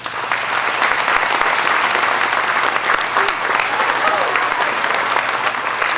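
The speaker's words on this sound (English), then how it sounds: "How about one big, loud round of applause for our friends from Wounded Warriors" A large audience applauding guests from Wounded Warriors, loud sustained clapping and crowd noise with no break, a few voices mixed into the roar.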